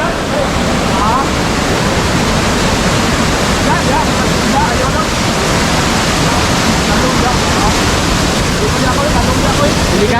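Waterfall at the Carmen falls in Baguio District, Calinan, rushing in a loud, steady broadband roar that fills the whole stretch without a break.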